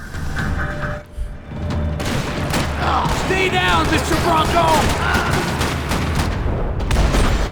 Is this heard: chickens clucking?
no